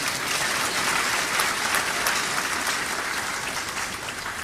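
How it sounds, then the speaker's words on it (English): An audience at a university congregation ceremony claps in a long, uniform wave, many hands overlapping into a steady wash of applause at constant volume with no speech on top. "So I think we should clap for them."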